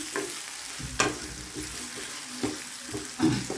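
Onion and green chili sautéing in a pan for a horse gram (kollu) kadayal, crackling sizzle punctuated by a few scraping stirs of the spoon, close and unaccompanied by speech.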